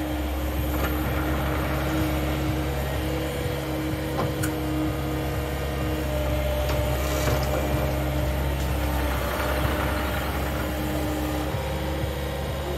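Mecalac 8MCR compact construction machine working at an outdoor demo at the Royal Cornwall Show, a steady, loud mechanical drone with low engine hum and faint clanking and ratcheting throughout, no talking.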